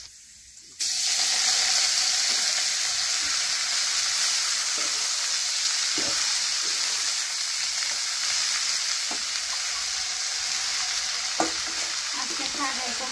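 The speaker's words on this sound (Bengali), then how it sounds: "রসুন আজকে বেশি করে দিচ্ছি, শাকের ভিতরে রসুন দিয়ে" Garlic and leafy greens sizzle steadily in a pan, a loud continuous hiss that starts abruptly and holds for the whole stretch, broken by occasional soft clicks of stirring.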